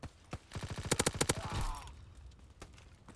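Rapid automatic gunfire in the online shooter Call of Duty WW2, a fast burst of a dozen or so sharp shots followed by a sustained blast and a couple of isolated later reports, fairly quiet overall.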